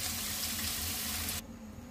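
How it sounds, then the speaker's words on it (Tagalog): Water runs steadily into a cooking pot with pork for macaroni soup, a close, soft rushing pour that cuts off abruptly partway, leaving a quiet background. "Nilagyan ko na po ng water."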